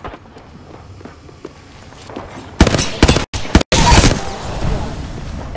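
Gunfire in the battle-royale game Apex Legends: a dense, loud burst of rapid shots in the second half, broken by two brief gaps, after quieter footsteps and movement sounds.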